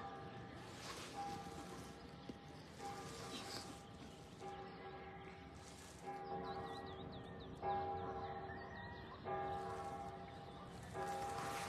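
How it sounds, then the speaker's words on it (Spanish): Church bells ring repeatedly in a slow, steady pattern at dawn in Jiquilpan, Michoacán, Mexico, heard at a distance with soft ambient noise between strikes. "Así que las campanadas es para que te levantes y vayas a misa"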